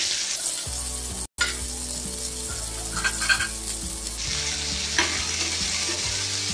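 Chopped onions and curry leaves fry in a hot pan for masala dosa filling, a steady close sizzle with stirring scrapes throughout and one brief dropout partway.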